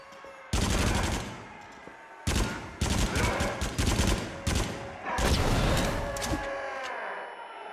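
Video-game gunfire in the horror shooter Until Dawn: Rush of Blood, loud close bursts of rapid shots in several separate volleys with brief quiet gaps between, ending in a fading ring.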